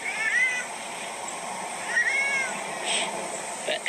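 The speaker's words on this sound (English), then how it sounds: "You're actually a really sweet cat." A pet cat gives several short, high meows spread over a few seconds, close and clear above a steady hiss of background noise.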